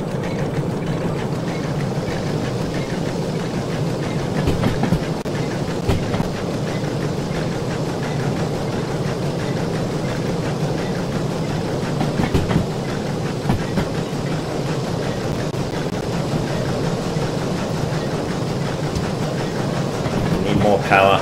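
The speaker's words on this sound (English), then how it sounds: "It's only a baby steam shunter, it's not a mainline locomotive" A small steam shunter locomotive in the Derail Valley simulator runs continuously with a steady mechanical rumble and rhythmic rail clatter, loud and sustained throughout.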